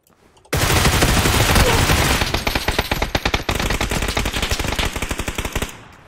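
Sustained automatic gunfire in a PUBG match, a sharp onset followed by dense rapid bursts and distinct repeated shots, loud and continuous with no talking.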